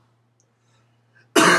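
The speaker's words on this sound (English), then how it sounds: "That's why I keep coughing." After near silence, a single sharp, loud cough bursts out close to the microphone at the end.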